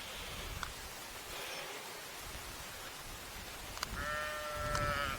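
Sheep bleat in bushes out in a field, faint and somewhat distant over steady wind and rustling noise, with one clearer, drawn-out bleat near the end.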